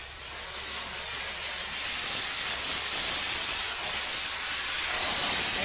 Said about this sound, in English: So we can spray our steam and